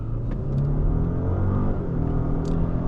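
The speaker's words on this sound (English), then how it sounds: "Let's go into the sport mode and quickly just accelerate." Genesis G90 sedan pulling hard in sport mode, a deep steady engine rumble with rising revs heard from inside the cabin, no talk.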